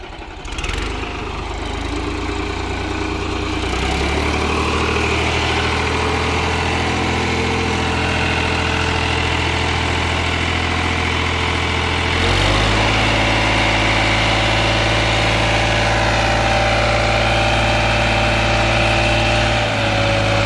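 A New Holland 3600 tractor engine runs steadily and loudly throughout, its low rumble shifting pitch partway through as the tractor drives out.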